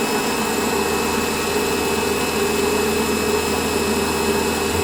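Lathe turning a washer while a small chamfer is cut on its underside: a steady, loud machine drone with a constant whine holds evenly throughout, with no breaks and no talking.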